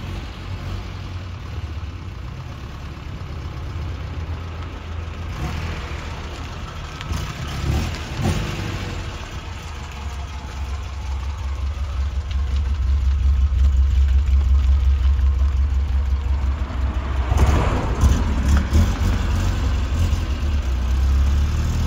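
A 1600 Alfa Romeo Giulia Sprint engine running steadily as the car drives, a low continuous rumble that swells louder partway through with a couple of brief revving surges, no talking.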